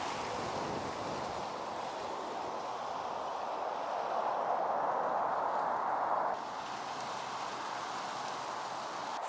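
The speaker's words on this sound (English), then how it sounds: "it's like 40 something degrees, but it's like very windy." Steady broadband wind roar on a cold winter night around a parked bus conversion, blowing for the full stretch, swelling a little in the middle before settling, with no voices.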